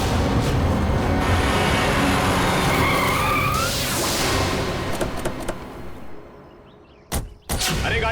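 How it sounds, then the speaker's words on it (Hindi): A vehicle brakes hard to a sudden stop, its tires skidding loudly on the road for several seconds before the noise fades out, followed by two sharp thuds. "अरे गाड़ी क्यों रोक दी?"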